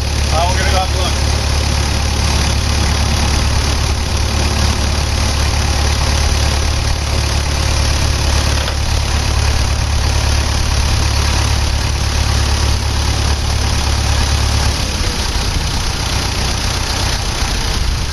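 A tractor engine idles close by with a loud, steady low rumble and mechanical knock, then cuts out near the end.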